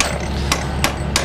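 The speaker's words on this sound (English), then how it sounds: "I'm just using the ball peen hammer from Bob Rupert that I've pilfered to knock over these" A ball peen hammer strikes hot metal flower petals on an anvil at a blacksmith's forge, three sharp, evenly spaced blows ringing out over a constant low forge roar.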